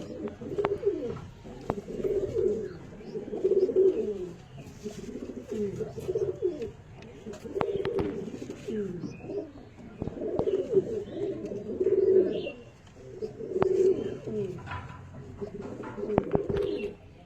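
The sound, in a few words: Andalusian Phulshira pigeons cooing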